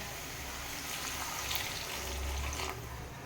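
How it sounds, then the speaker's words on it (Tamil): A tea tumbler of water is poured into an egg gravy in the pan, giving a steady splashing, sizzling rush of liquid at close range for a few seconds. "ஒரு டம்ளர் தண்ணி ஊற்றலாம் டீ குடிக்கிற டம்ளரில் ஒரு டம்ளர் தண்ணி"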